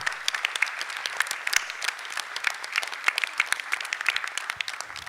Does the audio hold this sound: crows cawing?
no